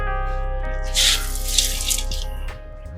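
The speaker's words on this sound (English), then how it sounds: "we're just gonna put this whole can of stock" Beef stock pours from a can into an Instant Pot pot as a brief liquid gush and splash, loud in the middle and tapering off, over a steady hum.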